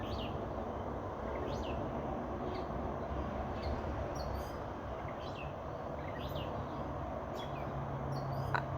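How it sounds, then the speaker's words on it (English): Wild birds sing near a backyard fruit feeder, their faint, scattered chirps rising now and then above a steady outdoor hiss. "Just listen to these birds and their song."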